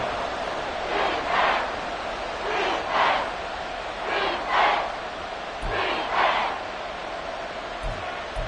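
An NFL football stadium crowd roars in repeated swelling waves of cheering and chanting, steady and loud throughout, with brief low thumps underneath.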